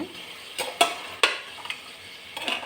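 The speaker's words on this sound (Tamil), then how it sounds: "இப்போ நம்ம எடுத்து வச்ச மட்டன் இதோடு சேர்த்திடலாங்க எல்லாம் அந்த எண்ணெயில் சுருண்டு வர்ற வரைக்கும் நம்ம ஃப்ரை பண்ணி எடுத்துக்கலாங்க" Mutton pieces fry in oil in a pot for a home-style mutton curry, a soft crackling hiss punctuated by several crisp metal stirring strokes, close up, with no voices.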